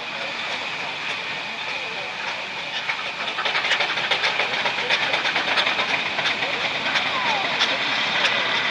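Two single crank compound steam engines pass at Boconnoc steam fair with a broad hiss and rumble that swells louder after a few seconds, joined by clanking and muffled voices in the crowd.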